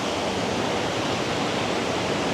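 Ocean surf rolls steadily onto a Sri Lanka beach, a dense, continuous wash of breaking waves that stays loud and even throughout, with no voices.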